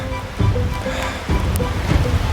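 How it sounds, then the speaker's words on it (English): A river rushing below a hillside trail near Cascade Falls by Oroville and Paradise, California, a loud steady wash of churning water with surging swells and no voices. "So the river is just down there."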